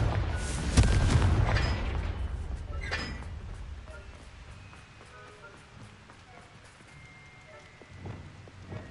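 A Confringo explosive spell goes off in Hogwarts Legacy with a loud, close boom near the start. The blast decays into a crackling, rain-like patter and fainter scattered pops.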